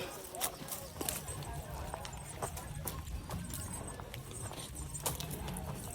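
A bull's hooves clop and scuff on the ground as it is led out near a parking spot, with irregular, moderately close steps and a faint jingle, under people talking.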